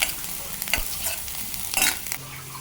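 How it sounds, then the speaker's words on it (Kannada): Chopped onions and curry leaves frying in a pan for a dry okra (bendekai palya) dish, a steady close sizzle with a few scraping stirs of a spoon against the pan, no voices. "ಎರಡು ಈರುಳ್ಳಿ ಸಣ್ಣದಾಗಿ ಕಟ್ ಮಾಡಿ ಇಟ್ಕೊಂಡಿದ್ದೀನಿ ಅದನ್ನು ಹಾಕ್ಕೊಳ್ತೀನಿ ಎರಡರಿಂದ ಮೂರು ನಿಮಿಷ ಚೆನ್ನಾಗಿ ಉರ್ಕೊಳ್ಬೇಕು"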